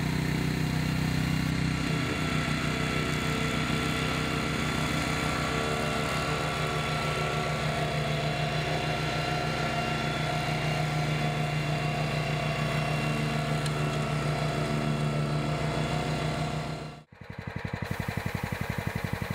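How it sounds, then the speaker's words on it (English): A Tracmaster BCS630WS walk-behind mulching mower with a single large blade cuts long grass, its engine droning loud and steady throughout and briefly dipping near the end. "The BCS mulching mower is ideal for controlling large areas of long grass."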